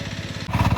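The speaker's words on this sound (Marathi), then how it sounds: "तर आयज आमी आमचो पावर ड्रिलर शेतान देंवयलो आनी ऑलमोस्ट अर्दे शेत नांगरून काडले" A power tiller engine runs in a farm field with a steady, rapid putter close by, growing louder and rougher after a brief dip halfway through.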